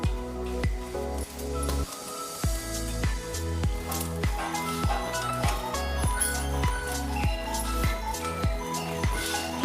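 Spinach paratha dough is kneaded firmly by hand with a little water and salt, giving a steady rhythm of wet, sticky squishes and presses, close and regular, about two or three per second.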